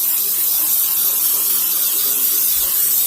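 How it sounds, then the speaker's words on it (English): Olive oil spray misting over a greased baking dish for shrimp roll-ups, a steady, close hiss that runs unbroken for about three seconds with no talking. "it said to assemble them in a greased baking dish. So I'm going to use this olive oil."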